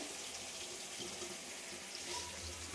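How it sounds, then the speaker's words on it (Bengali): Hot water pours steadily into a katla fish curry, a continuous close, hissing splash that stays even throughout. No voices. "গরম জল এদিকে বসিয়ে রেখেছি, গরম জল দেবো"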